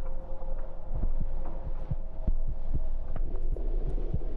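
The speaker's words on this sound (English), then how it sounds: "My heartbeat's going crazy." Heartbeat sound effect in the horror video game From The Darkness, a loud, close, steady throbbing pulse with a regular thumping rhythm over a low background hum, about eight beats and no talking.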